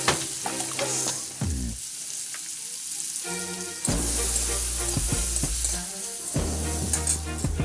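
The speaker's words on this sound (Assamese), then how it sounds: "পনীৰ ভজা তেলখিনিতে মই পিঁয়াজখিনি দিছো" Onions hit the hot oil left over from frying paneer and crackle loudly. Metal stirring clatters close by, and the sizzle dips briefly, then surges back louder midway. No voices.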